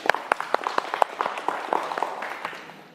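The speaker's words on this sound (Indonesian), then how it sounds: "Kasih aplaus untuk ketiganya." A classroom of students applauds three classmates after a quiz: a short burst of brisk clapping with sharp individual claps standing out, steady for a few seconds before tapering off.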